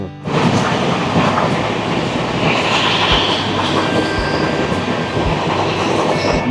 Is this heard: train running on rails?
yes